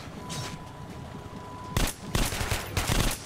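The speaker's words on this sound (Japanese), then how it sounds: "銃声を上げたなこいつ" Gunfire rings out in Metro Last Light Redux on PS4, a few loud rapid bursts of shots close together near the end, after a stretch of quieter ambient game noise.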